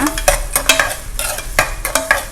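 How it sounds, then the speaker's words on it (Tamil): Mixed vegetables for a pulao being sautéed in oil, a ladle scraping and stirring in rapid, repeated strokes against the pan over a soft, steady sizzle, close and loud with no voices. "எல்லாத்தையும் சேர்த்து நல்லா வதக்கிக்கோங்க"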